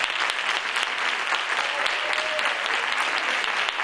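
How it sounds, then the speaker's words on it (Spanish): A crowd at an art fair applauds warmly, with many hands clapping in a thick, steady patter and a faint whistle rising briefly midway. "Un aplauso para mi maestro Lalo."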